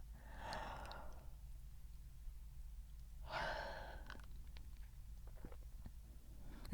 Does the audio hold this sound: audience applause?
no